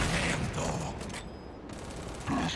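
Dense gunfire from the video game Gears 5 rattles continuously in heavy, overlapping bursts, briefly dipping before another loud burst, close and loud with no talking over it.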